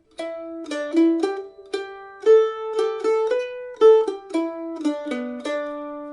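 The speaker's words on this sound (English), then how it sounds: "So our first phrase sounds like this." A mandolin plays the first phrase of the folk tune Star of the County Down, with clear plucked single notes in a moderate, even melody, close and solo.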